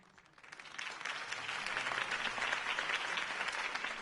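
Applause for a campaign speech starts softly, then swells into steady, dense clapping from a crowd that holds through to the end without any voices.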